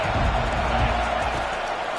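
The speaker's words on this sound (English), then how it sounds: "This crowd trying to make life miserable for this offense." A college football stadium crowd sends up a loud, steady roar that fills the space without breaks, with no distinct claps or cheers standing out.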